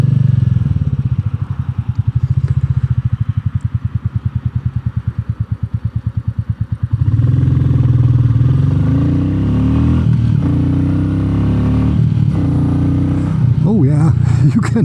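A Royal Enfield Meteor 350 fitted with a FuelX Pro module runs loud and close, first in a fast, pulsing idle thump, then swelling into a deeper, steadier engine roar as the throttle opens.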